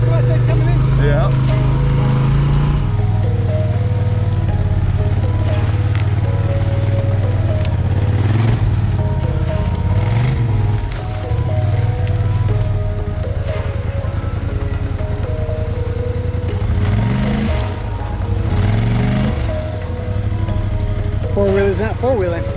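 Polaris Sportsman 850 High Lifter ATV engine drones steadily on a forest trail, a loud, low, constant hum with slight shifts in pitch as it moves, while people talk over it.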